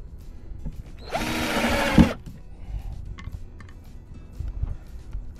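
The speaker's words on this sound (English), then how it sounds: "it will be time for me to drill the entry holes" An electric drill boring entry holes in a wooden top-bar swarm box for bees: a single steady whirring burst of about one second, close and loud, followed by quieter handling clatter and bumps.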